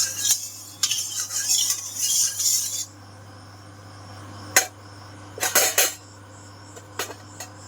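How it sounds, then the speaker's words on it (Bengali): Utensil scraping and clinking against the inside of a wok while a little oil is spread around its surface, in bursts of rubbing with a steady low hum beneath and no speech. "কড়ার ভেতরটা ভালোভাবে তেলটা লাগিয়ে নেবো অল্প তেলে"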